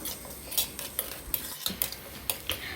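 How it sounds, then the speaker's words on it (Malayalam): Sliced plantain sautés in ghee in a pan, with a spoon scraping and clinking against the metal in quick, irregular strokes over a faint sizzle, close and clear with no voices. "ഇനി ഈ ഏത്തപ്പഴം നമുക്ക് നെയ്യിൽ നന്നായിട്ടൊന്ന് വഴറ്റിയെടുക്കാം."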